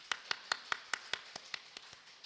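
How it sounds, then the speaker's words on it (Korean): A church congregation at a Sunday worship service in Yongin claps hands in a quick, steady rhythm, about a dozen sharp, even claps that gradually soften toward the end. "자신을 향해서 박수 한번 쳐보겠습니다"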